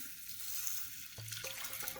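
Hot water pouring from a glass into a bowl for tea, a continuous soft splashing trickle with a few brief knocks, fairly quiet and close.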